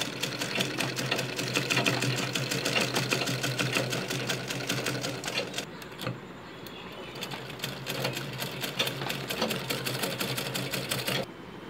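A sewing machine stitches invisible slit piping, running in a steady rapid mechanical chatter that pauses briefly around the middle before resuming, then stops near the end.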